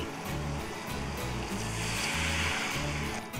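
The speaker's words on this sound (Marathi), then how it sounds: "यामध्ये घालूयात पाणी" Water pours steadily into a pot, a continuous splashing rush lasting a few seconds with a low rumble underneath.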